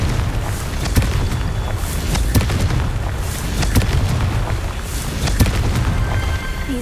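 Booming fire-spell blasts from the Confringo spell in the video game Hogwarts Legacy, several deep explosions at irregular intervals over a continuous rumbling game soundscape.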